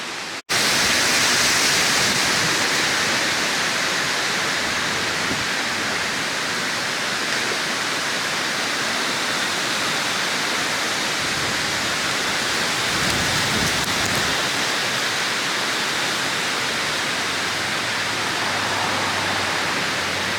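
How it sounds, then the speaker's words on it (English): Rain falling on a newly planted shade garden, a dense steady hiss of drops that stays even and close for the whole stretch, with no voices. "So it is still raining a bit"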